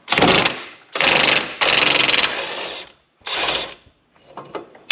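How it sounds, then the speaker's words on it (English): Impact tool loosening a bumper bolt on a 2007 Chevy 3500 Duramax truck, loud close rattling bursts in several runs with short gaps, then fainter clicks. "I'm going to loosen that bolt onto the bumper."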